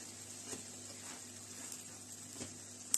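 Raisin pancakes (oladky) fry in oil in a covered pan, giving a faint, steady sizzle with soft crackles and pops and no voices.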